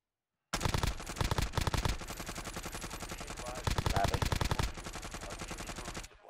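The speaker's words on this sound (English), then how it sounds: "Oh, I am shooting Krampus." Automatic weapon fire in the video game Warzone: after a moment of silence, long rapid bursts of gunshots rattle continuously, loud and close, with brief pauses between volleys.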